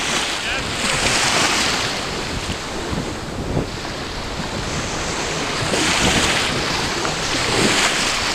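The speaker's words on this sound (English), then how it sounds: "Some nasty surf here." Nasty Atlantic Ocean surf with a strong undertow, breaking waves washing in as a continuous loud roar with swells building and fading, mixed with wind buffeting the microphone along the shore.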